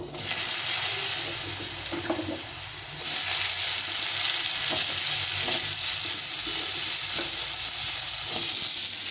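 Cut potatoes and elephant foot yam sizzling and frying in hot oil in a pan, a steady loud crackle with occasional stirring clinks, the sizzle jumping louder partway through as more pieces go in.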